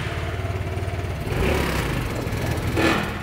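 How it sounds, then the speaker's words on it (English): A 2015 Vespa GTS 300 Super engine runs on its center stand, a close buzzing single-cylinder note that swells in two brief, limited revs and falls back rather than climbing freely. "see, it doesn't allow it to rev up"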